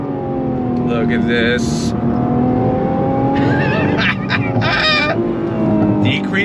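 A Nissan GTR accelerates hard in second gear with a loud, sustained engine roar that rises steadily in pitch, joined by tire noise and a short spoken exclamation over it.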